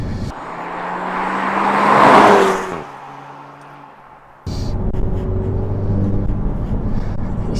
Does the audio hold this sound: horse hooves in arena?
no